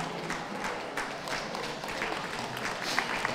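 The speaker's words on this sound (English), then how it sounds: "give them a round of applause" Applause from a crowd at an indoor championship dog show during terrier group judging, steady and dense throughout, fairly distant and even.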